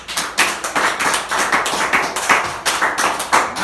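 A church congregation claps together in a quick, even rhythm, many hands striking in loud repeated bursts close to the listener, with no talking.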